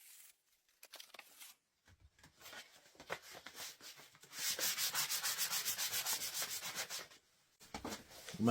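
Sandpaper rubs over a wooden axe handle during a restoration, starting with scattered light strokes and building into a run of fast, even back-and-forth scrubbing, close and alone.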